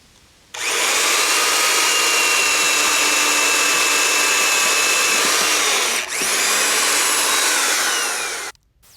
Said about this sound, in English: When you're drilling this, you want to offset the hole so that the brace is draws the wood together